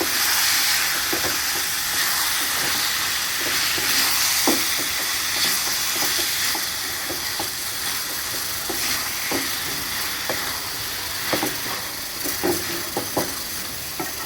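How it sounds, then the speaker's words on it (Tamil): Prawns and onion masala sautéing in a pan for prawn thokku, a steady close hiss and sizzle with soft scraping stirs running throughout, no voices. "இப்போ இதையும் நல்லா சேர்த்து நல்லா வதக்கி வச்சுக்கலாம்."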